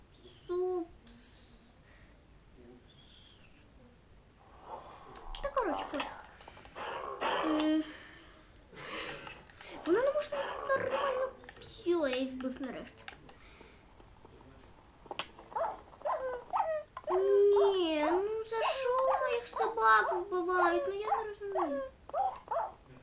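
Dogs whine and whimper with occasional yelps in Minecraft, over busy game sounds, and a person talks throughout.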